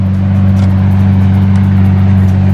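Mercedes SL63 AMG engine heard from close by as the car pulls away, a loud, steady low rumble that holds without a break.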